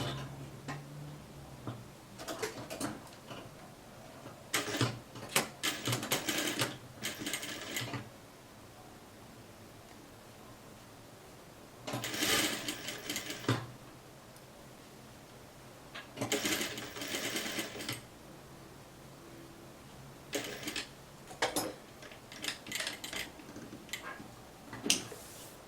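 A home sewing machine stitches a beginner's blouse in short bursts of fast rhythmic ticking and whirring, separated by quiet pauses, heard close and fairly soft with no talking.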